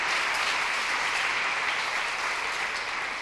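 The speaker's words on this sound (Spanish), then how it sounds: "¿Cuántos pueden dar una ofrenda de palmas a ese Dios que es eterno?" A church congregation claps together in steady, full applause, a continuous even roar of hands sustained for about three seconds without voices.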